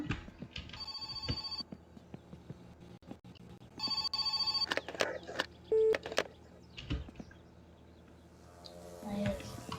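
A telephone rings in the My Summer Car video game, with repeated electronic ring bursts amid game sounds and intermittent talk.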